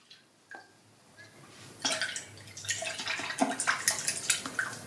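Resin 3D prints sloshed and shaken inside a container of rinse liquid during post-processing, starting with a few faint drips and then building into close, busy splashing and swishing.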